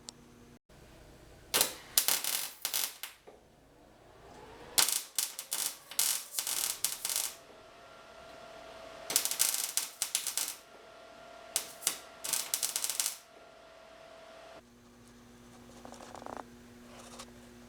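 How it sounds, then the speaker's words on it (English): A welder lays a patch on the rust-holed rear window frame of a 1973 Toyota Celica, giving several close bursts of harsh crackling and sputtering a few seconds long, separated by quiet pauses and faint hum, with no talking. "So I'm gonna give that a shot at welding that."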